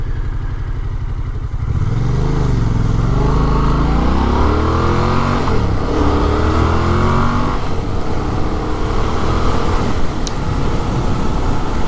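A 2015 Yamaha FZ-07 motorcycle fitted with a small aftermarket pipe idles briefly, then revs and accelerates hard through several rising gear pulls, loud and close with a steady engine drone throughout.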